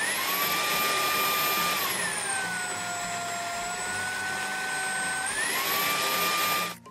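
A Roidmi X20 Pro cordless vacuum cleaner runs loudly with a high whine that drops in pitch partway through, rises again, then cuts off at the end.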